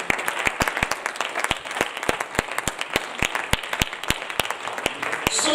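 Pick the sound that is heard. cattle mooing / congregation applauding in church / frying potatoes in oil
congregation applauding in church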